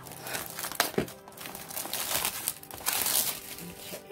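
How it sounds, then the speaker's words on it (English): Plastic wrap being peeled and crumpled off a diamond art painting kit, with loud close crinkling and rustling in bursts and a few sharper tearing sounds. "let's go ahead here and get the plastic off of this"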